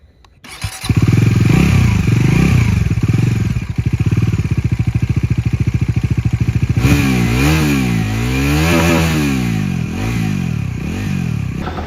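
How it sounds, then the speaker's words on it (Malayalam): A Bajaj Dominar 400 motorcycle with a double-barrel exhaust starts up and idles with a rapid, throbbing bass beat, then revs repeatedly in rising and falling surges, loud and close. "നമുക്ക് ഏതായാലും ബൈക്കിന്റെ സൗണ്ട് ഒന്ന് ഫീൽ ചെയ്ത് നോക്കാം."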